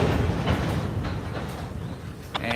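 Freight cars clank and bang as a train slows to a stop in a rail yard, heard as a steady low rumble with scattered metallic knocks and a few sharp clanks near the end, fairly close.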